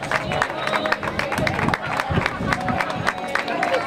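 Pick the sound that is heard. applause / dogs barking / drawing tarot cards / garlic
applause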